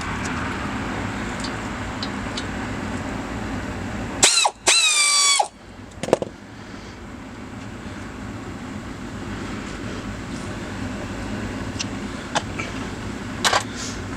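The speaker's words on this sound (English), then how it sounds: "where we use the 7mm hexes, we're going to pull out the screws" A power ratchet with a 7mm hex bit whirs in a short burst, removing brake caliper screws on a 2005 Volvo S60 2.5L turbo AWD. A few metallic clicks and taps follow, all over a steady low background hum.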